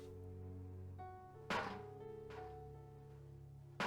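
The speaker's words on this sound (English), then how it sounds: "Someone playing the drums on a garbage can." Hollow drum-like banging on a garbage can in the Nancy Drew game Treasure in the Royal Tower, with two sharp metallic hits standing out over a steady tonal musical background.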